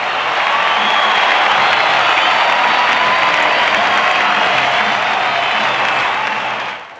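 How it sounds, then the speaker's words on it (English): A large baseball stadium crowd of Atlanta Braves fans in 1991 roaring and applauding after a win, a dense, sustained wash of cheering that holds steady for several seconds and then fades slightly at the end. "Listen to this crowd."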